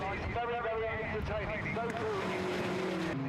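TVR Challenge race cars accelerating at Thruxton circuit, their engines rising in pitch over several seconds and overlapping as the pack passes, with a commentator talking over the top.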